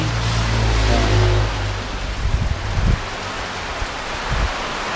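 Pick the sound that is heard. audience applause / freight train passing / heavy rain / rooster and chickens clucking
heavy rain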